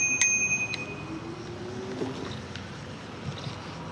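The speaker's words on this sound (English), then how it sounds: "I jangled that bell hard" A bicycle bell on an e-bike rings a couple of quick times near the start, bright and close, over steady outdoor wind and road noise.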